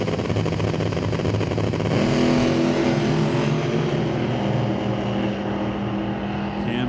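1937 Chevy drag racing car making its run, a loud engine roar that climbs in pitch after a couple of seconds and then recedes slightly, with faint background commentary.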